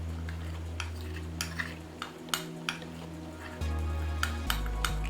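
Silky cocoa base is poured and scraped into an eggless cake batter in a kitchen, giving soft clinks and taps of a utensil against a bowl over a steady low hum, with no talk.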